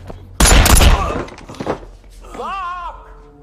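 Gunshots in a thriller film scene, a loud burst of shots near the start followed by fainter impacts, with a shouting voice afterward.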